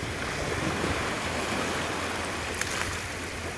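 Sea waves wash in at Mandvi beach as a continuous, fairly loud surf roar with gusty wind, with no voices and no breaks.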